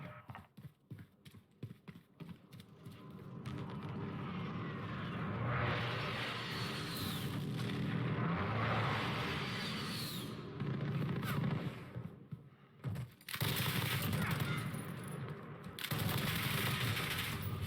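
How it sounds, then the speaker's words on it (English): Call of Duty: Modern Warfare multiplayer match with an enemy precision airstrike inbound: a dense rumble of distant gunfire and explosions with rapid clattering bursts of automatic fire, sustained and loud throughout. "Enemy precision airstrike inbound."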